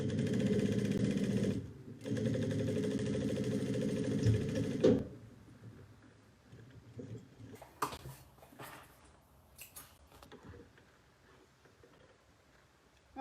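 Sewing machine stitching a bucket bag seam, a steady close mechanical whir in two runs with a short pause between, then stopping, followed by quieter handling clicks and rustles.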